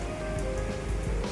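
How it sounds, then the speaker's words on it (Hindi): Heavy rain falls in Rishikesh, a steady close patter of drops drumming on a surface, loud and unbroken with no speech. "फिर से बारिश स्टार्ट हो चुकी है"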